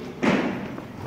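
At a school party quiz, a hand comes down hard on a quiz bell, making a single close, heavy thud with no ringing tone, followed by quiet room noise.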